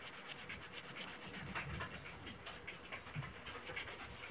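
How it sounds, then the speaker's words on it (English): A polymer clay bead being wiped with rubbing alcohol on a cloth, giving a steady close soft rubbing and scrubbing texture throughout with a slightly louder stroke partway through. "And wipe the bead off again."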